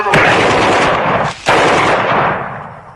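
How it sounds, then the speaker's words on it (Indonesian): Loud, rapid automatic gunfire rattles in two long bursts separated by a brief gap, close and harsh. "suara tembakan mereka didengar oleh Kiko yang kebetulan melintas"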